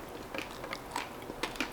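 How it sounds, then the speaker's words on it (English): Crunchy bites into a sprinkle-covered treat, a few sharp crisp crunches spaced apart, close and fairly quiet, with no talking. "That crunch will get you every time."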